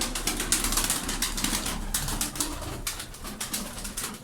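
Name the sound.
tumbler pigeons cooing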